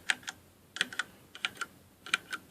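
Keys on a Kingston HyperX Alloy FPS mechanical keyboard with Cherry MX Brown switches are pressed straight down, giving crisp, close clicks in small irregular pairs and clusters against a quiet background.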